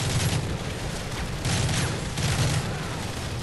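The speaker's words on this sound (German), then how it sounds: "Wo kommen denn die Schüsse her?" Bursts of gunfire and booming explosions in the video game Call of Duty Modern Warfare 3, heavy rumbling shots in two or three surges over continuous battle noise.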